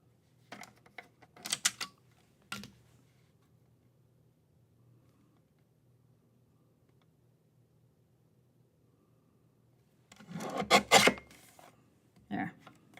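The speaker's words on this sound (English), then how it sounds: "I'm going to trim just a little bit more off that." Card stock for a slimline card is trimmed with a paper trimmer in short, crisp slicing and sliding bursts, one cluster near the start and another near the end, separated by quiet.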